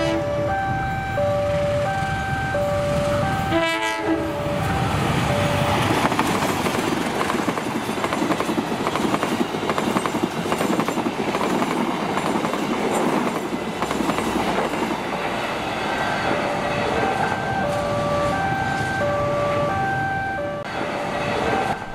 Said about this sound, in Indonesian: yang mau lewat ini adalah kereta api Saunggali 147 dari stasiun Kutoarjo tujuan stasiun Jakarta Pasenen